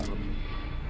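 Steady helicopter drone in the video game DayZ, a continuous loud rotor and engine hum holding level for the whole second, with no voices over it.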